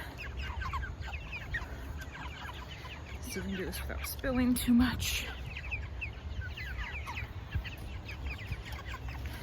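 Meat chickens cluck and chatter nearby at morning feeding while someone talks over them, with a brief flurry of louder squawks in the middle.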